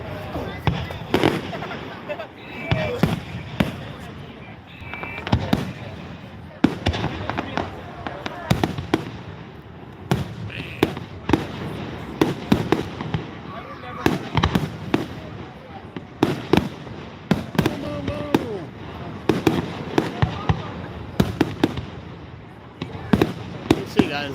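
Fireworks show at the Milan fair, a dense run of loud booms and crackling bursts going off in quick succession throughout, with people talking and reacting in the crowd.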